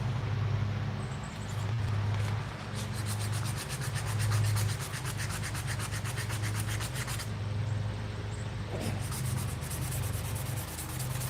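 Abrasive paper rubbed steadily across a surface during a workshop build, a continuous close scratchy rasp with slight swells in intensity and no talking, over a low background hum.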